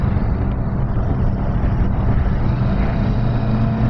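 A Kawasaki Vulcan S twin-cylinder motorcycle engine runs while riding, giving a steady, low, throaty drone that stays loud and even throughout, mixed with wind rush and no talking.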